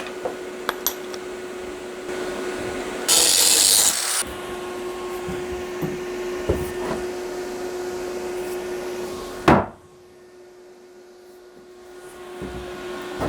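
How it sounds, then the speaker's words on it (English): Power-rack handle tube being cut with a loud broadband burst of cutting noise lasting about a second, set against steady workshop hum and scattered knocks, ending in a sharp bang before things fall quiet. "all I'm gonna do is do a couple of cuts and then just bend it slightly and then weld that up"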